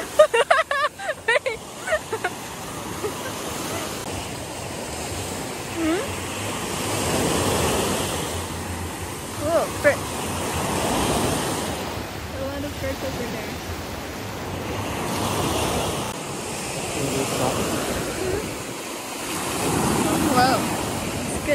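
Ocean waves break and wash onto the shore at Puerto Peñasco, a continuous surging roar with swells rising and falling, wind buffeting the microphone and brief voices at the start.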